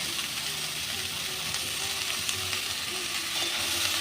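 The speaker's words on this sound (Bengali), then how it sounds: "হালকা ভাজা হয়ে গেছে বাঁধাকপি আর ক্যাপসিকাম এবার দিয়ে দেব পেঁয়াজ" Shredded cabbage, capsicum and onion frying in oil for chowmein, a steady close sizzle with faint scraping of stirring underneath.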